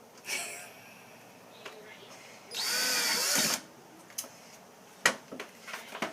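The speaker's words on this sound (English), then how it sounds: "you want to take your drill and screw the screw into the golf tee" A power drill whirs in one short burst of about a second, driving a screw into a golf tee, with faint clicks and handling noises before and after.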